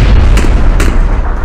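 A loud grenade blast in a game, with two sharp bursts over a heavy low rumble, close and forceful.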